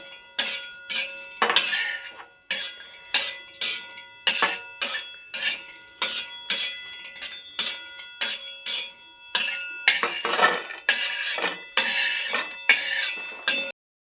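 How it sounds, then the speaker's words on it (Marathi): Roasted coconut is scraped from a pan onto a plate, a spatula striking metal in a steady series of sharp rhythmic clinks and scrapes, close and clear with no talking. "आता ह्याला एका प्लेटमध्ये साईडला काढून घेऊया"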